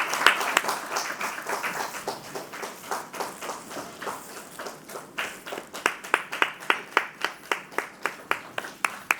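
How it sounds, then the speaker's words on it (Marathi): A crowd at an award ceremony bursts into sustained applause, dense clapping that thins into a steady rhythmic beat of claps toward the end. "कडकडाट टाळ्यांचा गजर."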